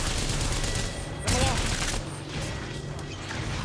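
Gunfire in Apex Legends: a rapid burst of shots with mechanical clatter swells suddenly in the middle, set against ongoing game noise and faint voices.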